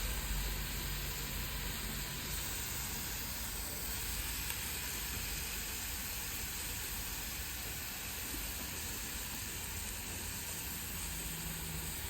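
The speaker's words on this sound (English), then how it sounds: "We'll also now put our two 1-inch burgers right onto a fresh grill plate" Two one-inch burgers sizzle steadily on an oiled braai grill plate, a constant, even hiss that continues unbroken for the whole stretch with no voices.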